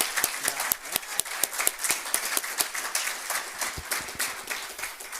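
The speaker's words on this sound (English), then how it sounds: "if you could all just join me in giving him a round of applause" Applause from those attending a student government weekly meeting, with sharp, distinct claps from a fairly small group standing out over the rest, close and lively for the whole stretch.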